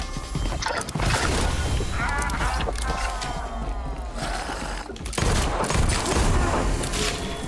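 Mortar fireworks in a video game burst in a loud, continuous barrage of crackling explosions with heavy booms. The noise barely lets up across the whole stretch, and a sharp blast lands near the end.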